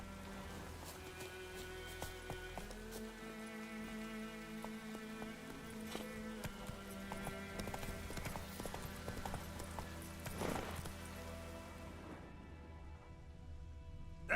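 Roach the horse clip-clops along in The Witcher 3: a steady, fairly quiet run of hoofbeats over a constant game ambience, with no voices.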